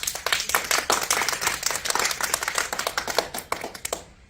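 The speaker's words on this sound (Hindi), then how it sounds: "तो तालियां" Children and adults clap together for the village headman arriving as chief guest at a Republic Day (26 January) school celebration in a Maithili comedy sketch; dense, steady clapping close by for about four seconds, then stopping abruptly.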